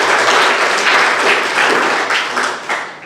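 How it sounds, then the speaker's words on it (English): Sustained audience applause fills a school awards assembly for junior high students, loud and dense clapping throughout that tapers slightly near the end. "So give them a big round of applause."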